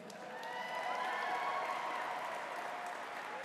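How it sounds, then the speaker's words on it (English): Audience at an adoption gala breaks into applause and cheers, a dense patter of clapping that swells quickly and holds steady, heard from a modest distance. "Go ahead, cheer, you can do that."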